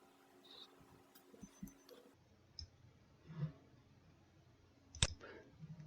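A computer mouse clicks a few times, faint and sharp, with one louder click near the end, over a low quiet background.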